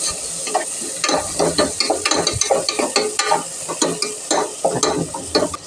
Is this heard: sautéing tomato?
yes